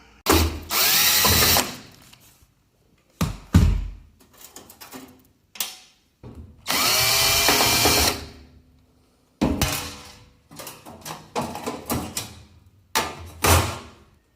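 Power drill driving screws into a cabinet bracket during a kitchen appliance installation, several loud close bursts of whirring with pauses, ratcheting clicks and handling knocks between them.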